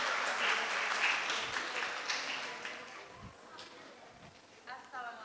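Audience applause for a guest speaker at a school nutrition talk show, broad clapping that fades out over several seconds, with a voice speaking near the end.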